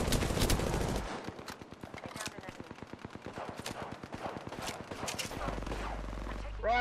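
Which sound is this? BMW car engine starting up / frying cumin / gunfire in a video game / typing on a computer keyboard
gunfire in a video game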